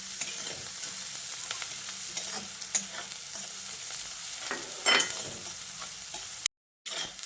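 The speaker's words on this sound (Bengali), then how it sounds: "লঙ্কাটা দিয়ে পেঁয়াজের সঙ্গে আরও কিছুক্ষণ ভেজে নিতে হবে।" Onion and green chili frying in a pan, a continuous close sizzle with occasional scrapes and stirs of a spatula, briefly cut to silence near the end, with no talking.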